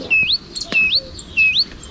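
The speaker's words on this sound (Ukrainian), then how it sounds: "Хто це так голосно цвірінькає?" Small birds chirp loudly and close by in a winter setting, three bright rising chirps in a steady repeating pattern with a few fainter calls scattered between them.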